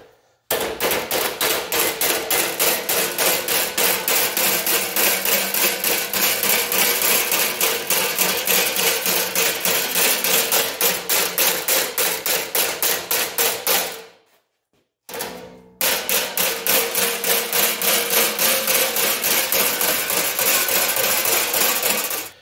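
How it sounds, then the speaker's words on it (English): A hammer strikes a dolly over and over while rolling the edge of a sheet metal tail panel for a 1949 Chevy Fleetline, clamped on an I-beam. The blows come as a rapid, loud, even metallic rattle with one brief pause. "I'm going to clamp it on the I-beam there now and take my hammer and dolly and just"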